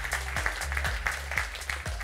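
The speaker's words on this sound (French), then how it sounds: "On va applaudir." Applause for staff members being introduced at a presentation on the digital sector in Réunion, quiet and somewhat distant, with a few sharper individual claps standing out from a low background hum.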